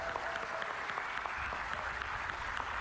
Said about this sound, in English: I wanted to ask everyone here to give yourselves a round of applause.